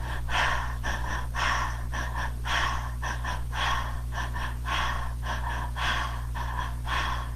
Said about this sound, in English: Breathe in. Big breath in.